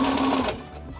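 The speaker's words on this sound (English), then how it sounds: "If I don't feel a gap, I just sew right on through." Home sewing machine running at a steady whir while stitching the nested seams of a Bargello quilt, close and continuous for about a second before easing slightly.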